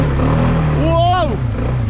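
A quad bike engine revs while spinning a doughnut, giving one quick rising and falling whine under loud nearby voices.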